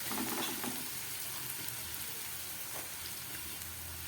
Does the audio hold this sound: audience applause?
no